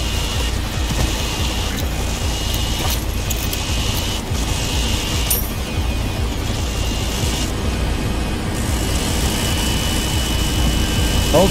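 A helicopter engine in the Resident Evil 4 Remake video game drones as a loud, steady rumble with a constant whine, continuous and close for the whole stretch.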